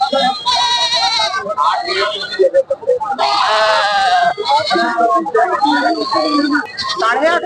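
Goats bleating loudly and continuously at the Sarangarh goat market, many overlapping nasal cries close by, with people talking in the busy crowd beneath them.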